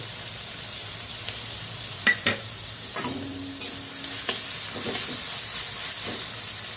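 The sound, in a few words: garlic and green chili frying in a pan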